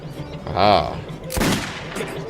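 Revolver shots in Metro 2033 Redux, a couple of sharp cracks with a tonal ring, the second one broader and louder, followed by a brief tail.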